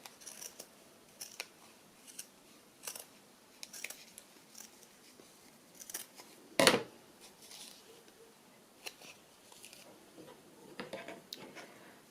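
Scattered crisp snips of scissors cutting fabric scraps, quiet and close, irregularly spaced, with one louder sharp snip partway through.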